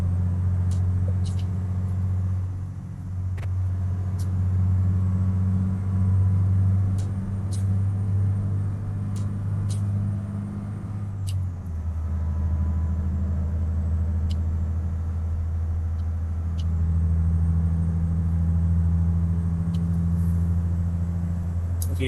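A truck in Euro Truck Simulator 2 drives through a tunnel at about 70 km/h. Its engine makes a loud, steady low rumble that drops in pitch partway through, with faint clicks and whines above it and no voices.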